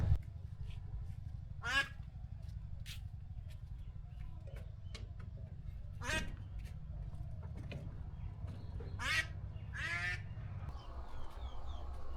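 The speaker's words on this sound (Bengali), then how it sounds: "আমি আজকে এই হাঁসটা জবাই করে ফেলবো" Several loud, nasal duck quacks burst out at irregular intervals over a steady low rumble, with no voices.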